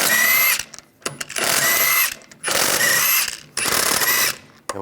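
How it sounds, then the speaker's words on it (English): An impact tool with a 17mm socket runs lug bolts off a wheel of a 1999–2005 Volkswagen Jetta. It makes three or four loud, close bursts of rattling whirr, each about a second long, with short quiet gaps between them. "use a 17mm socket, take the lug bolts out."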